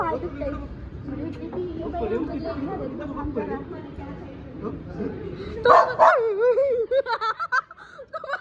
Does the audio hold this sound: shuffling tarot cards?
no